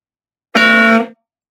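A single loud, brassy horn blast of about half a second sounds alone as the effect in a TurboWarp table-tennis game when the ball hits the floor.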